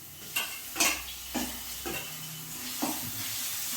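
Ginger and onion paste frying in a pan, with soft scraping stir strokes over a low steady sizzle, quiet and close, with no talking.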